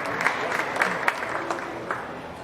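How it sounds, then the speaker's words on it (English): Applause from spectators at a county fair beef heifer show, fairly quiet and scattered, with individual claps popping out from a thin crowd. "Give all these exhibitors a nice round of applause on a good set of heifers."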